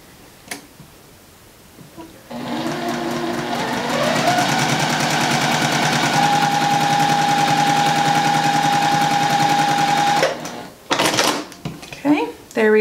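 A sewing machine stitches a 4-inch quilt square for a half log cabin block, starting after a short pause and running as a fast, steady whir for several seconds before stopping, with brief handling noises around it.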